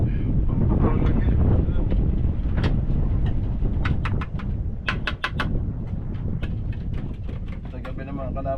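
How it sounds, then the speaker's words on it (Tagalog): Strong wind buffets the microphone at a noisy engine-driven spot, a steady broadband roar under short bursts of talk, with a few sharp clicks or chirps in the middle. "Sobrang hangin."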